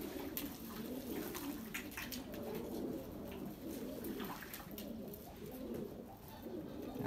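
Pigeons, including a Polish breed, cooing softly while bathing in water: repeated low throaty coos with light splashing and flutters, faint and steady over several seconds, no talk.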